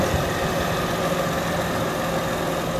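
An Acura Honda engine idles steadily after replacement of the passenger-side engine mount, alternator, serpentine belt and battery, a smooth continuous hum recorded close up with no speech.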